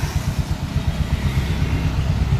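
A Bajaj CT 125 motorcycle engine started with one press and no choke, settling into a steady, loud, close idle with a rapid low putter.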